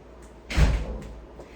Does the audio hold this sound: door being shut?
yes